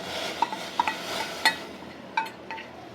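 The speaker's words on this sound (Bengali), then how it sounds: "এখন আমি দিয়ে দিব কাঠবাদাম, চীনা বাদাম, কাজু বাদাম একসাথে মিক্স করানো" Mixed almonds, peanuts and cashews drop into boiling water in a pot for nut tea, giving a handful of small clinks and taps over a soft bubbling hiss.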